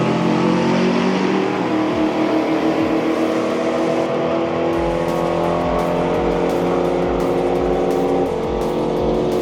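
A vintage drag racing car launches and accelerates hard down the strip at Santa Pod, giving a loud, sustained engine roar that climbs through gears and fills the whole stretch, with no speech.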